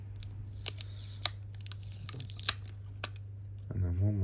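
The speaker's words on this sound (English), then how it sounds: "I'm going to peel off all of these bits where it's pointing to." Adhesive strips are peeled off a Samsung Galaxy S25 Ultra battery, heard as sharp, close crinkling and tearing snaps spaced irregularly over a low steady hum, and a voice begins at the end.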